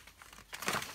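A small piece of typing paper is grabbed and handled at a card-stamping table, giving soft crinkling and rustling that builds to a louder crumple near the end of the brief moment.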